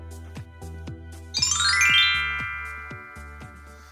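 A bright notification bell dings once, ringing out and slowly decaying over a steady, repeating low rhythmic background beat.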